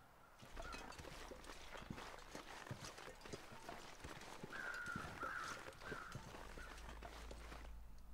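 Birds circling a dead body in The Long Dark's snowy wilderness, heard as faint cawing and a high squawk in the middle. Crunching footsteps plod steadily underneath, all at low volume.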